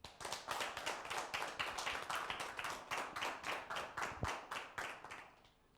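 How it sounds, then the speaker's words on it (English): An audience on a talk show claps in steady, evenly spaced strokes, a close and fairly loud run of about twenty claps that fades out at the end, with no one talking. "with a round of applause again, I ask you to welcome the guest of the moment"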